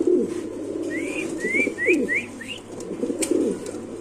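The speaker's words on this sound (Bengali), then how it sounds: "হোয়াইট রেসার কবুতর নাকি ভাই" A white racer pigeon gives low, throaty coos in repeated pulses, close by, while thin bird chirps rise and fall in a quick series above them.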